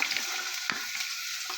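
Potatoes with dried chillies frying in white oil make a soft steady sizzle, with a couple of small stirring clicks, quiet and close, no speech.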